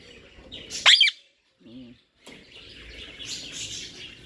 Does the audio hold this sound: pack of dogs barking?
no